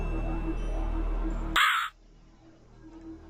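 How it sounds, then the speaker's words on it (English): A single crow caw rings out abruptly and loudly in the video game Rusty Lake Hotel, cutting through a low ambient hum before quiet returns. "Is that a crow?"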